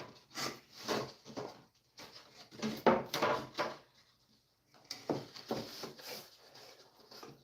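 A plywood door panel is pushed and clipped into place, giving a series of close wooden knocks and clacks in short bursts with a brief quiet gap midway.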